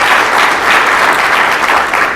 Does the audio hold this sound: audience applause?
yes